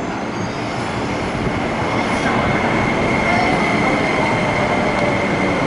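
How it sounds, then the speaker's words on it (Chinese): An MTR East Rail line train, an SP1900 unit bound for Lok Ma Chau, rolling into Sheung Shui station, a steady loud rumble of wheels on rail with a faint high squeal, heard from the platform. "往老麻州列车现在到站"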